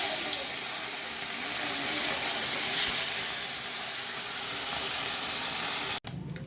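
Small puti fish dropped into hot oil in a pan for a Bengali spicy fish dish, giving a loud, steady broadband sizzle that holds for about six seconds before cutting off abruptly.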